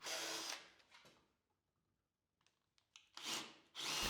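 A power drill bores into wood in loud bursts, drilling from both sides toward a dowel hole: one at the start, then a quiet pause with light handling noises, then two more close whirring runs.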